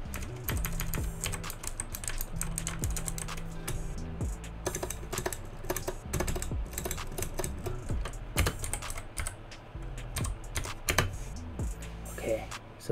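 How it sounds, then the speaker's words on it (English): Tapping and typing on a computer keyboard at a desk, picked up by a Razer Seiren X streaming microphone: a steady run of close, fairly loud clicks and keystrokes with irregular rhythm and a low background hum. "You can even hear the tapping."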